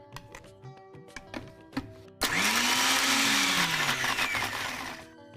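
A few light taps and knocks come first, then a kitchen blender grinds chutney with a little water and a pinch of turmeric added, its motor whining loudly and steadily before cutting off near the end.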